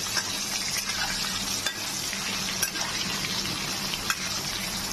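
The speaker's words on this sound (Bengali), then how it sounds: "এবার আলুটাকে ভেজে নিচ্ছি ভালো করে।" Potatoes seasoned with salt and turmeric fry in hot oil, giving a steady, even sizzle with faint stirring scrapes throughout and no voices.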